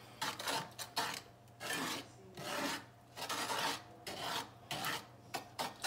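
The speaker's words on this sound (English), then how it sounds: "Mixing in the skillet." Brownie batter mixed in a skillet, a spoon scraping and rasping against the pan in quick repeated strokes, close and fairly quiet with no talk.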